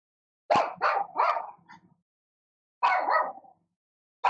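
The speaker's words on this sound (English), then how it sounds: "I think she heard the dog outside, and that's why" A dog barking outside, two close bursts of several sharp barks each separated by a pause, with another bark starting at the very end.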